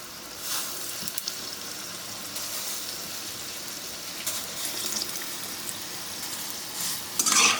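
Steady sizzling of urad dal rasbora fritters frying in oil, a continuous bubbling hiss with occasional stirring scrapes and a louder crackle toward the end.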